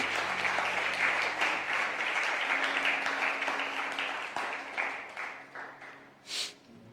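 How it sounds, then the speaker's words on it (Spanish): A church congregation claps together in a sustained, dense wash of applause that gradually fades toward the end, followed by a brief isolated noise. "Dale una ofrenda de palmas a Jesús"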